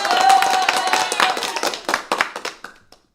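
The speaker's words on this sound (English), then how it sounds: "That's my hand clap." A quick series of sharp hand claps, close and loud, tapering off into softer, scattered claps before fading out.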